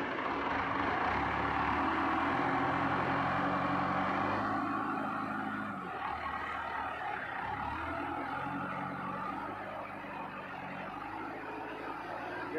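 A small forklift engine revs hard at full throttle, a loud sustained droning roar that holds steady and then eases slightly in pitch and level, close by with no talking.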